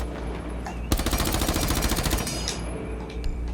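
Sustained rapid-fire burst from an MP5 submachine gun in the Rainbow Six Siege video game, loud and close, a steady stream of shots lasting over a second with little variation.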